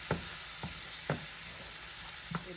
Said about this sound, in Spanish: Ahora lo vamos a sofreír.